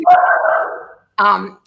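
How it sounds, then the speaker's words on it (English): A household dog barks nearby, first one long, drawn-out bark followed by a short sharp one after a brief pause, both loud and close. "Oh, my dogs are going to start barking."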